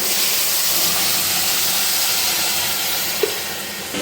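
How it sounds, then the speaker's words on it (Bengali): Water poured into a hot pot while making chicken bhuna khichuri, a loud, broad steaming hiss that gradually eases, with one small clink near the end. "এখন আমি দিয়ে দেবো জল,"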